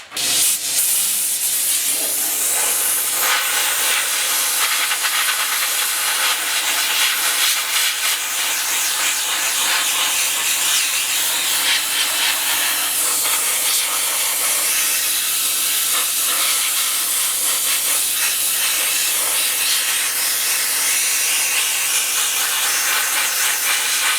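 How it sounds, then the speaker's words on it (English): A speed sander works steadily over the replacement box sides of a 1956 Ford pickup, giving a continuous loud, gritty hiss with no pauses. "I think the best solution for that is to use the speed sander"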